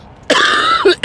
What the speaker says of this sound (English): It's a bad cough.